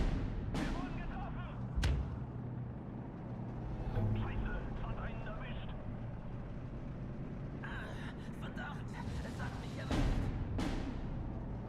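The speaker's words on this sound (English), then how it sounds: "I really want to shoot those mortars" Mortar and artillery fire in the video game Steel Division 2, several sharp booming shots at irregular intervals with distant rumbling battle noise between them, heard over a quiet background.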